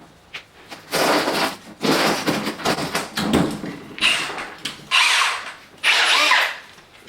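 Milwaukee M18 Fuel rotary hammer drills, 2713-20 and 2715-20, run in several loud bursts of whirring and hammering with short gaps between them, close by and with no talking.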